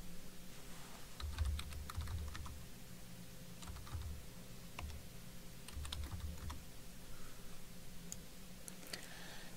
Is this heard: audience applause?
no